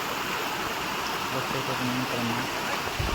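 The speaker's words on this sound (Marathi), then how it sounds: "आणि इकडे पाणी वाहू राहिलं आहे" Water flowing through a forest stream, a constant even rushing wash that fills the whole clip, with faint voices and some low tonal sounds in the background.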